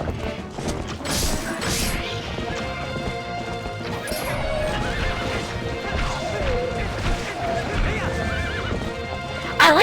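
An agitated horse in The Legend of Zelda: Twilight Princess neighs and whinnies repeatedly over clip-clopping hooves, crashes and dense game music, with a loud, continuous, busy mix throughout.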